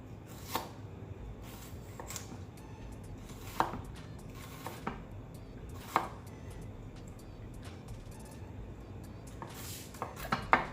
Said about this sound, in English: Slicing up my onion,